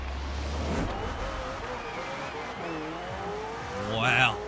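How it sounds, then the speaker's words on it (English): Two British supercars, a McLaren Senna and an Aston Martin Vulcan, race in Forza Horizon 4, engines droning and shifting pitch steadily, with a sharper rising rev swelling near the end under ongoing talk. "these are two British racing cars"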